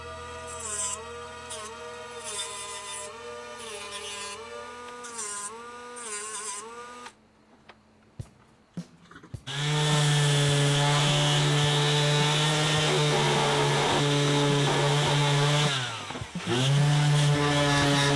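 A high-pitched power tool whines in varying bursts, goes quiet with a few clicks, then a louder motor spins up and cuts steadily through excess carbon pins on a knife handle, dipping briefly before resuming.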